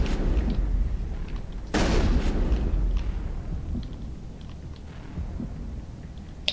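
Heavy, booming gunfire strikes the player in Mass Effect 1, a dense rumbling barrage with one louder burst near the middle, continuing less intensely afterward.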